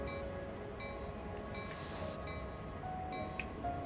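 Freight train in a train simulator game braking to a stop, a steady low rumble and rail noise with faint squealing tones throughout, continuous and moderately quiet with no voices.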